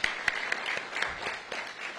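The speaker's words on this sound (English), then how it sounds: "So please join me in a round of applause for our mayor." An audience at a mayor's ribbon-cutting for a new high school gives scattered applause, with a few sharper claps standing out above a steady, moderately close patter.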